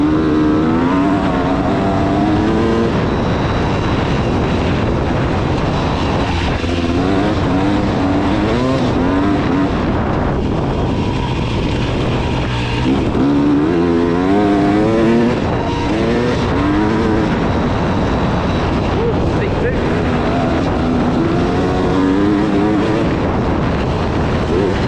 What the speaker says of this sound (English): KTM sound, KTM 300